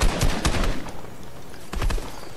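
Rapid gunfire bursts in a Fortnite duo match, clusters of sharp cracking shots at the start and again near the end with a quieter gap between.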